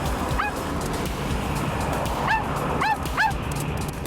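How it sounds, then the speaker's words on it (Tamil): An animated cartoon puppy barks in several short, high yips, one early and a quick cluster later, over a busy background track. "இந்த டாகி எதுக்காக இப்படி கத்துது?"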